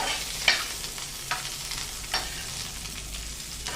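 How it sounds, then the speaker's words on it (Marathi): Green chillies, garlic, coconut and coriander roast on a hot tawa with a soft, steady sizzle, broken by a few sharp scrapes and stirring clatters of a spatula. "हे बघा, खमंग असं भाजून घ्यायचं याच्यावर तव्यावर।"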